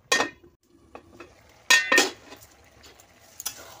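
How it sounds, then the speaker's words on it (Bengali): A cooking pot being covered with its lid while prawns and half a hilsa fish head simmer with ash gourd: a few sharp metallic clanks and clinks, fairly close, with quieter rattles between them and no talking. "ঢাকনা দিয়ে দেব।"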